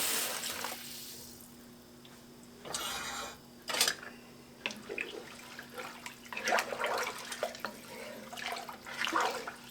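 Water runs from a kitchen faucet into a pot on and off over several seconds, with hissing bursts and splashing that rise and fall, close by.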